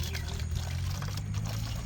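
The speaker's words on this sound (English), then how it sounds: "Now all that is left to do is fill the bottle to the brim with water." Water is poured to fill a plastic bottle set up as a rope-wick plant watering system. It makes a faint, steady trickling stream that runs unbroken, with no talking.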